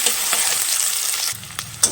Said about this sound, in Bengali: পেঁয়াজ ভেজে নিচ্ছি ব্রাউন কালার করে পেঁয়াজটা ভেজে নেব